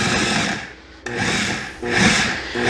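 A food processor pulses pie crust dough of flour and cold butter, making loud whirring grinding bursts in quick succession with short gaps between pulses.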